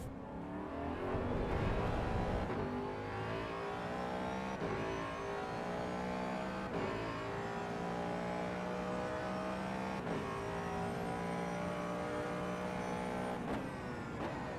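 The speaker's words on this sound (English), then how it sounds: "I think this car definitely sounds better than the one on ACC for sure." Race car engine in the Assetto Corsa EVO racing game, revving hard and steadily for the whole stretch, with clear gear-change dips and rising pitch sweeps, loud and close with no talking.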